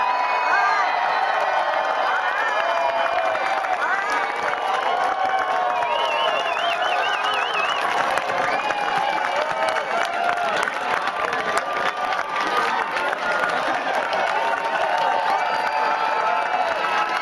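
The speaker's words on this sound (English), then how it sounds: "Cheer!" A large crowd cheers at the TARC 2010 award presentation, a long unbroken roar of shouting, whooping voices and applause, loud and close, with higher children's-style shrieks rising out of the din.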